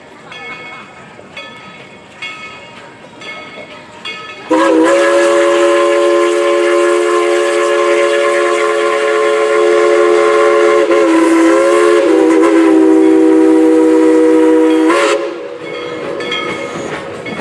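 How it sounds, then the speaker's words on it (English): The Yukon Queen steam train blows a long, loud multi-tone whistle for about ten seconds with a brief dip in pitch partway through, set against rumbling train noise before and after. "the train will back up, then will come around to the depot once again to pick up the photographers"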